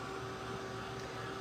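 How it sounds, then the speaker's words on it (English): A heat gun drying watercolor paint blows a steady whirring hum with a faint tonal whine, even and unbroken for the whole stretch, no voices over it. "I'm using a heat gun"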